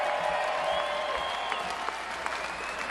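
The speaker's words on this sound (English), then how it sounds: "how about one more round of applause for those kids for coming up here and leading us in the Pledge of Allegiance?" A crowd at a Donald Trump rally in Everett, Washington claps steadily for a few seconds, a broad wash of applause at moderate level with a faint tonal hum running underneath.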